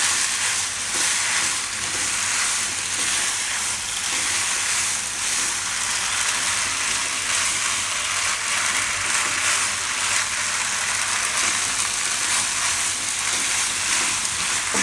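Pasta is stirred into a tomato broccoli sauce in a hot pan, giving a loud, steady sizzle with soft stirring scrapes throughout and no pause.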